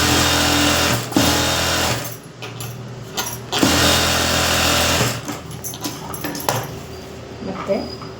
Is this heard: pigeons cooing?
no